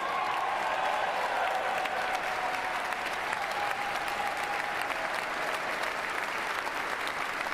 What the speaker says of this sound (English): you stand up and clap and that's your signal of like, we support you